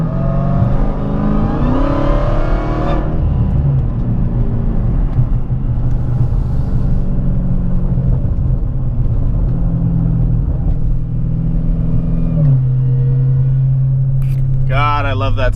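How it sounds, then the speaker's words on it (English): Supercharged Dodge Challenger Hellcat making about 800 rear-wheel horsepower, its supercharger whine climbing in pitch over a deep engine rumble, loud and close, then settling to a steady cruise before rising again near the end. "God, I love that supercharger whine."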